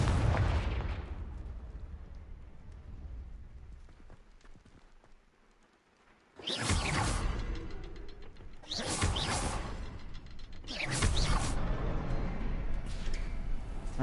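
Confringo fire-spell explosions in the Hogwarts Legacy video game: a series of loud, booming blasts. Four separate bursts come a few seconds apart after a quiet lull, each with a crackling, rumbling tail.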